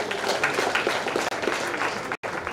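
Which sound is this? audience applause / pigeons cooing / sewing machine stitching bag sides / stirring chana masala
audience applause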